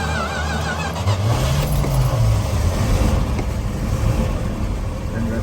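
An old truck engine, started manually with the choke, running loud and steady with a rough low rumble right from the start, close by, with no talk.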